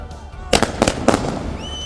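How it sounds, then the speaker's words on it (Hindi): Celebration fireworks and firecrackers in Baramulla go off as three sharp, loud bangs in quick succession, followed by a thin rising whistle from a rocket. "उनके परिजनों और रिश्तेदारों ने खूब पटाखे छोड़े।"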